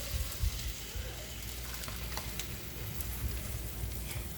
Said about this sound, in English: I'm going to go ahead and add about six strips of bacon on here